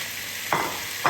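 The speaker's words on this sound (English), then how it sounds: "we're going to sear the lamb for a while" Lamb searing in hot sunflower oil in a pan for a lamb curry: a steady, close sizzle and crackle of frying, with two short bursts of louder hissing as the meat is stirred or moved.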